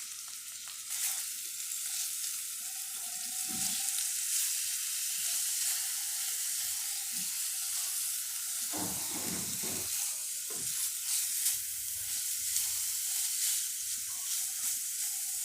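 Chicken with onion and ginger-garlic paste fries in a pan, giving a continuous close sizzle and hiss, with occasional stirring scrapes and bubbling bursts mid-way.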